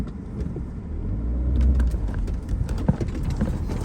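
A motorcycle tricycle strains on a rough, dangerous road, its engine rumbling close by under uneven, bumpy clatter and scattered knocks, with some sharp jolts.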